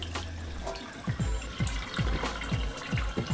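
A washed wig being squeezed by hand, water dripping and splashing in a series of soft, rhythmic pulses, close and fairly quiet, with no talking.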